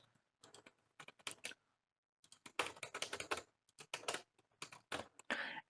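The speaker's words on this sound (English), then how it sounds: "Just type just something gibberish here" Rapid bursts of keystrokes on a computer keyboard, clicking in irregular clusters separated by brief pauses, close and fairly quiet, with no talking.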